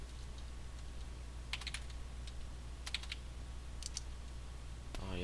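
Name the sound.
typing on a computer keyboard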